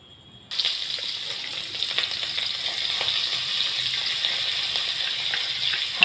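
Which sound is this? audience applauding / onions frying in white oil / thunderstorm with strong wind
onions frying in white oil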